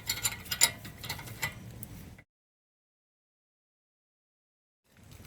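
A wrench tightening wheel nuts on a 2010 Honda Accord, heard as about two seconds of close, quick metallic ratcheting clicks, then silence and a faint return at the very end.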